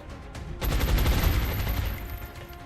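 Gunfire from a soldier in the XCOM Long War video game breaks out suddenly, a loud close volley that rattles on for about a second and a half before fading into a lingering tail.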